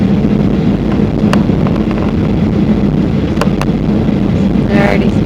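A passenger airliner accelerates down the runway for takeoff on a 2013 flight to Varadero, Cuba, giving a loud, steady, broadband rumble that holds evenly throughout, with a few brief clicks and rattles on top.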